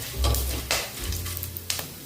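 Whole spices, bay leaves, black peppercorns and a pinch of asafoetida sizzle and crackle in hot oil in a pan, a close, loud hiss with stirring scrapes and brief pops.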